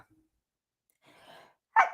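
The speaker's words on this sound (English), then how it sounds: "I'm going to sneeze." A faint breathy inhale builds up, followed by a single sharp, loud sneeze close to the microphone.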